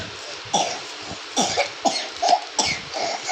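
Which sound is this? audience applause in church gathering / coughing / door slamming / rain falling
coughing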